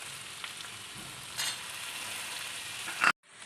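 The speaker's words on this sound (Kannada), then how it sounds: "ಈಗ ಬಟಾಣಿ ಹಾಕ್ಕೊಂಡು ಫ್ರೈ ಆಗಿದೆ." Green peas frying in a pan for street-style Indo-Chinese veg fried rice, giving a soft continuous sizzle with a brief stir near the middle and a louder clatter just before it cuts off.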